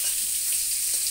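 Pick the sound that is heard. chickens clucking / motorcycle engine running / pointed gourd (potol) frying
pointed gourd (potol) frying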